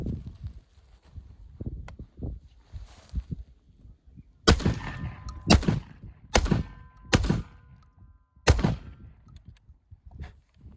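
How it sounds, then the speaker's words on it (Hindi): An Akkar Churchill 212 shotgun fires number 4 shells as several sharp, loud booming reports in an uneven series, each cutting off quickly. "चार नंबर बहुत अच्छा फायर हुआ"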